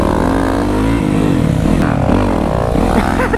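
A Yamaha WR450SM motorcycle engine revs hard for a wheelie, a loud, close, rising buzz with shifting pitch and no voices over it.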